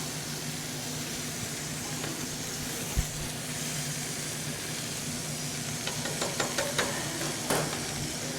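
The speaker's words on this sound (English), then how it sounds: "We're just gonna get all sides of the meat nice and cooked off" Lamb meat seared in a hot pan on all sides, giving a steady soft sizzle and hiss with a few sharp pops and crackles toward the end, fairly quiet.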